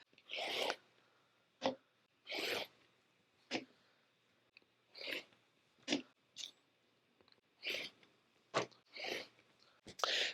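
A rotary cutter slices through a fat quarter of cotton fabric in about a dozen quick, quiet, crisp swipes, each stroke short and separated by brief pauses.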